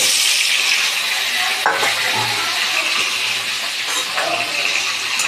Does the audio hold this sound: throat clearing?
no